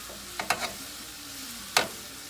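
Sliced food sizzles gently in a hot pan while a spoon stirs it, giving a few quick scraping strokes near the start and one louder scrape later over a soft, steady frying hiss.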